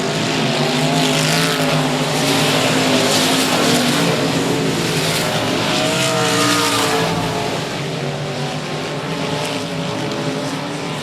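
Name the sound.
race car spinning out at 105 Speedway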